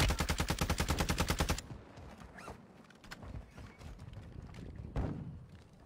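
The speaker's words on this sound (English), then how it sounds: "I just sniped him in the back of his head." Call of Duty Warzone 2.0 gunfire: a rapid string of loud, evenly spaced shots for about a second and a half, then scattered thuds, clicks and a couple of sharper reports in the game action.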